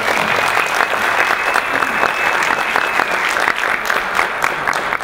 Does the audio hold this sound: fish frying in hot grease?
no